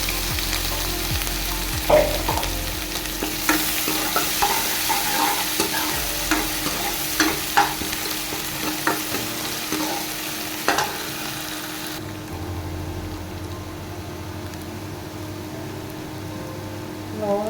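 Ground ginger and garlic frying in a pan for cauliflower sabzi, a steady sizzle broken by scattered spoon clicks and stirring scrapes that fades to a quieter hiss near the end.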